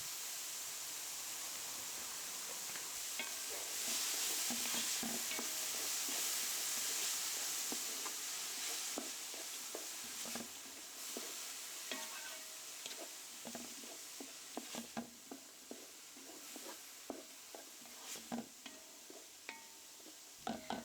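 Seasoned food sizzling steadily in a hot pan with salt, five-spice, garlic powder and white pepper, a broad hiss joined by repeated scraping stirs that grow more frequent, close and alone without speech.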